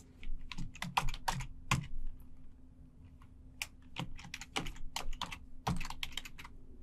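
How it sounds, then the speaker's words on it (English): Typing a username and password on a computer keyboard, with close, crisp key clicks in uneven quick bursts and brief pauses between them over a faint steady hum. "Type username or email address and password as admin"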